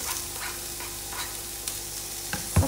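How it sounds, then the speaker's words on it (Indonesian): Lemongrass, onion and shallots sizzle in hot oil as they are sautéed and stirred in a pan, a steady crackling fry with light scraping, ending in a sharp thump near the close; no one speaks. "Ini ada 3 bahan, ini serai, bawang bombay, bawang merah masuk dulu biar nanti bawang putihnya tidak nyiprat-nyiprat"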